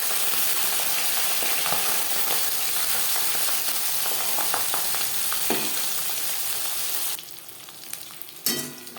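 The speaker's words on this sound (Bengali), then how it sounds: "মাছ একটা সাইড ভাজা হয়ে গেলে অপর সাইডটা উল্টে দেবো।" Pabda fish sizzling in hot oil in a pan, a dense steady crackle and spatter that drops quieter near the end with a few brief clinks, no voices.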